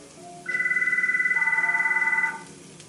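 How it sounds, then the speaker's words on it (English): A telephone rings with a fast, trilling electronic warble, one sustained ring of about two seconds, close and clear over a quiet room. "I don't understand why when I'm filming is when the phone rings."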